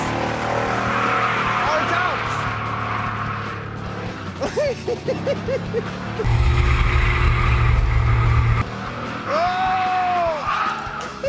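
A large GMC truck drifting in first gear at a drift event, tires squealing in loud bursts over a steady engine roar, with a strong low rumble in the middle as the truck passes close; a commentator talks throughout.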